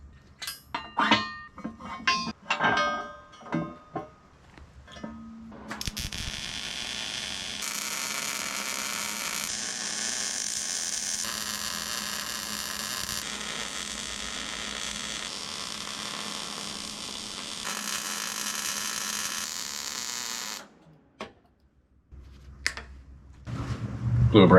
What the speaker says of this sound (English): it's time to finish welding this thing on here.